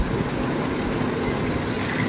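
A train runs on its rails during a trip to Tarapith, heard from inside as a steady rumbling roar with a broad hiss. The sound is continuous and fairly loud, with no distinct clacks standing out.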